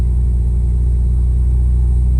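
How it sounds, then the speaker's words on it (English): An air suspension compressor on a car with an Airlift 3P system hums steadily at close range, a loud continuous low drone with no breaks. "Compressor should kick on."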